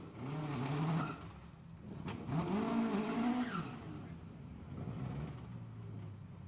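A race car climbs the Shelsley Walsh hill in a championship challenge hill climb, its engine rising and falling in pitch through gear changes, loud and close at first, then easing off and fading over the last few seconds.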